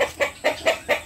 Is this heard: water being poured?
no